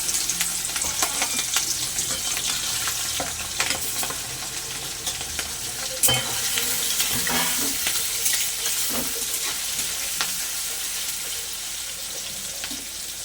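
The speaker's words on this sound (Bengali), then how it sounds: "সর্ষের তেল দিয়ে আমি চিংড়ি মাছগুলো ভেজে নেব" Prawns frying in hot mustard oil give a loud, continuous sizzle with frequent crackling pops and scraping stirs throughout, up close and without talk.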